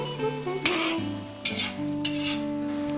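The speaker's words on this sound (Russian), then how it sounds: "Вот половину этого бульона я отправляю в казан." Meat broth poured into a hot kazan for Azerbaijani kyufta, hissing in a loud, steady sizzle with stirring scrapes and a couple of sharper splashy bursts, no voices.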